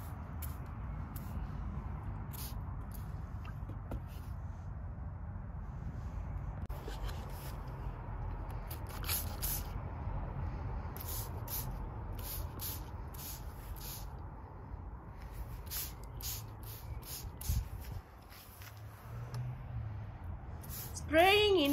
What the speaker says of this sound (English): I'm going to spray including the stems